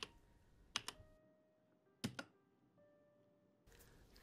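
A few faint, sparse clusters of computer keyboard keystrokes, with short quiet gaps between them, heard alone without talk.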